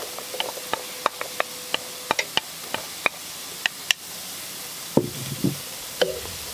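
Celery and onion sautéing in a pan for Sicilian caponata, a quiet background sizzle punctuated by frequent sharp clicks and knocks of a utensil stirring against the pan, with a couple of louder scraping bursts near the end.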